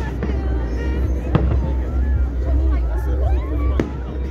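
A fireworks display explodes at a distance in Runcorn and Widnes, with booming bursts rolling under steady crowd chatter and nearby voices.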